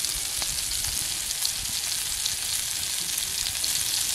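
Chicken frying in oil on a hot clay roof tile over a village wood stove, giving a dense, constant, loud sizzle throughout with no talking.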